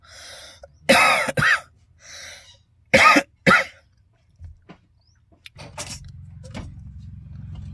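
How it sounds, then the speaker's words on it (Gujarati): Several sharp, harsh coughs in short bursts, close to the mic, followed by quieter rustling and a low background hum. "વધારે પડતું બોલીએ ને તો ખાંસી થઈ જાય"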